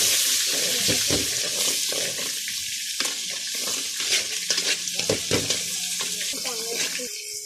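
Chicken curry sizzling and frying in a pan just after a little water goes in, with steady hiss, bubbling and occasional stirring scrapes throughout, close and fairly loud.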